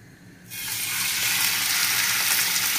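Fish seared in a hot pan for a cassolette: quiet at first, then a sudden loud hiss of sizzling that swells and holds steady, crackling continuously.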